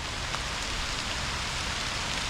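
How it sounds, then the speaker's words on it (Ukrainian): Heavy rain pours down in a dense, steady hiss that stays loud and unbroken, with no voices. "дивіться який дощара пішов"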